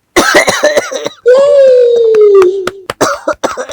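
Several harsh coughs up close, a burst at the start and more scattered at the end, with a drawn-out strained vocal sound between them.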